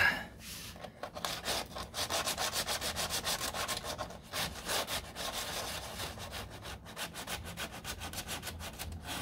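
Body filler on the door of a 1969 Corvette C3 is hand sanded with finer grit, making a steady rhythmic back-and-forth rasping of quick close strokes and no voice.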